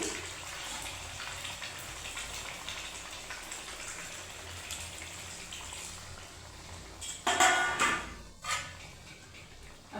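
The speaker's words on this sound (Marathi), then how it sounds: "आपल्याला जेवढा रस्सा हवा आहे तेवढं पाणी टाकते आणि शिजवते मीडियम फ्लेमवर" After a quiet stretch of soft background noise, water pours and splashes into a pot of chicken curry in two short bursts near the end.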